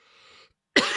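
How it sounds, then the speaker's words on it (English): A single sharp cough bursts out loud and close after a faint steady hum and a moment of silence. "Pardon my coughing, by the way"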